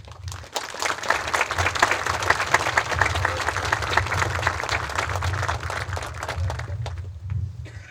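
An audience claps steadily to welcome a speaker at a Survival Day dawn service in Ballarat on Wadawurrung country. The dense, even applause lasts about eight seconds and fades at the end.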